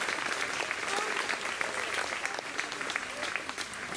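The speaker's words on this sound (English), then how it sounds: "give all of them a round of applause, please" Audience at the Abbotsbury 2015 show applauds steadily for the full length, a dense, continuous wash of clapping with some voices and cheers mixed in.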